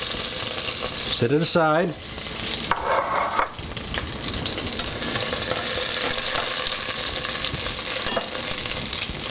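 Chuck roast sizzling in a cast iron pot, a loud steady frying hiss that runs throughout, with a brief scrape and a voice speaking over it early on.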